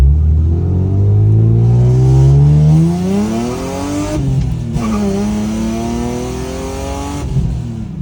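A BMW M3 engine revs up and accelerates, pitch climbing through the gears with a brief drop as it shifts, then settling into a steady driving hum.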